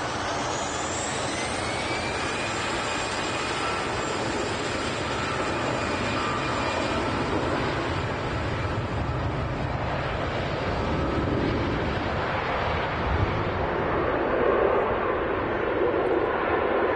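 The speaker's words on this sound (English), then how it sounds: "we've got the Singapore A380 on the way out" Singapore Airlines Airbus A380 taxiing out at Manchester Airport, its jet engines giving a steady, loud broadband roar with a faint high whine that holds throughout, slightly swelling toward the end, with some wind noise.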